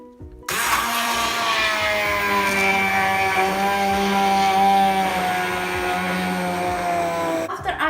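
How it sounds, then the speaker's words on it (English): A Moulinex hand blender whirs steadily as it purées spinach and egg into baby food, a loud sustained motor whine starting abruptly and holding with slight pitch wavering before cutting off at the end. "So I am going to use a hand blender from Molinex."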